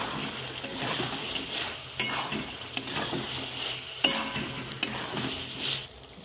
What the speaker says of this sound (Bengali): পেঁয়াজ কুচিগুলো দিয়ে দেবো। পেঁয়াজটাও পরিমাণ মতো লাগবে, যতটা মাংস ততটাই পেঁয়াজ লাগবে। ভালো করে কষে নেব।